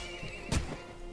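A horse in the video game Mount & Blade Warband gives a short neigh in the middle of a busy battle, over steady background noise from the game.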